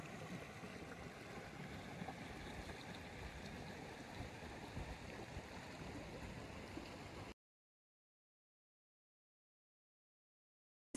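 A waterfall gives off a steady, dense rushing roar that holds evenly for about seven seconds and then cuts abruptly to silence.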